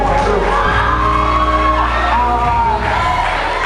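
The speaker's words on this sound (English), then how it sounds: "Let's give them a round of applause." A crowd at a school tournament closing ceremony at Mutare Girls High cheers loudly, with whoops, shouts and yells forming a dense, sustained roar that barely dips across the stretch.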